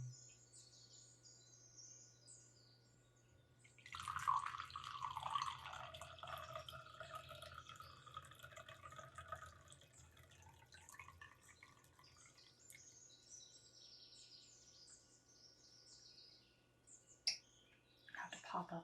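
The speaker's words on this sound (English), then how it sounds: "I think I'm going to go ahead and pour myself some wine." Wine is poured in an ASMR setting, a soft close gurgling stream lasting several seconds and quieter trickles afterward, with faint chirping in the background.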